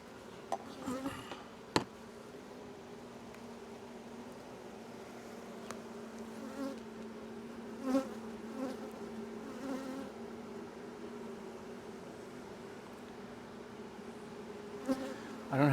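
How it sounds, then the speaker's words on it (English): Honeybees in an open hive hum in a steady, moderately close buzz throughout, with occasional light clicks and knocks of frames being handled. "A lot of bees."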